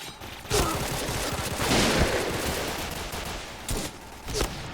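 Sustained bursts of rapid automatic gunfire fill a round of the shooter game Point Blank, loud and dense, with brief pauses and a few more volleys near the end.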